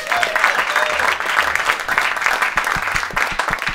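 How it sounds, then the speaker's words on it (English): Audience applause fills the room with a dense, steady wash of clapping that carries on loudly, with a few sharper individual claps standing out near the end. "please give a round of applause for Bop Shop Records."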